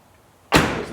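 A car door bangs open with one sudden loud thud after near silence, then a short rattling echo as it settles.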